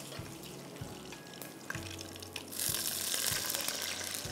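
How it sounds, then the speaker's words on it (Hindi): With the stove switched off, a little water goes into a hot pan holding cumin and curry leaves in oil, giving light clatter and then a louder hissing rush of steam near the end, close and with no talking. "चूल्हा बंद करके मैं थोड़ा सा इसमें पानी डाल रही हूँ।"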